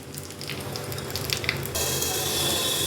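Hot oil with asafoetida crackles and sizzles in a pan, then a sudden louder hiss swells as the tempering is poured over an onion-tomato curry, continuing steadily to the end.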